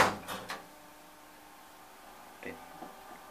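The door of a 2007 Motala Hissar platform lift at a library in Östermalmstorg station bangs and clatters loudly at the start. A quiet hum follows, then a softer knock and rattle near the end.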